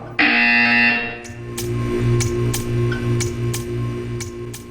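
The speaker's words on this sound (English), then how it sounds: "You will hear a buzzer" In the video game Portal 2, a loud, harsh electronic buzzer blares for about a second, followed by a low hum with a steady series of regular ticking clicks.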